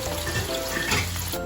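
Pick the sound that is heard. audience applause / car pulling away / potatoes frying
potatoes frying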